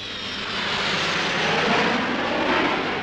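A present-day jet airliner flies overhead, and its broad, steady roar swells and holds loud and close for several seconds with no voices.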